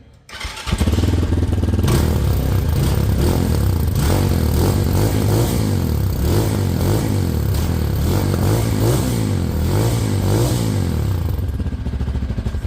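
Jialing 250cc cafe racer motorcycle on its original exhaust, idling then revved repeatedly in loud, close bursts with a throaty, rumbling note that rises and falls steadily throughout.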